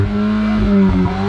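A 2022 Volkswagen Golf R engine revs hard in Nürburgring mode, a loud, sustained rising and falling roar that stays close and dominant for the whole burst, with no talking over it.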